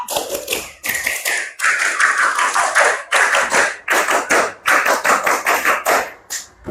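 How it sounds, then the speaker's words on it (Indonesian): A classroom of students performs a rhythmic scout clap pattern twice, loud, sharp hand claps and taps in clustered rhythmic bursts with brief pauses between phrases, close and energetic. "sebelum ditutup, 2 kali tepuk pramuka"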